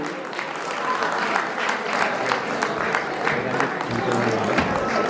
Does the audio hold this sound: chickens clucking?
no